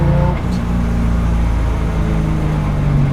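Inside a restomod Porsche 911, steady exhaust drone and cabin rumble fill the car while driving, loud and continuous with no talk.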